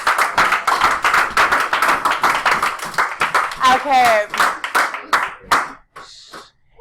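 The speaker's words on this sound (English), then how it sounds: "Let's give them a round of applause" Classroom applause from students, with steady clapping running under a teacher's talk, then fading into scattered claps near the end.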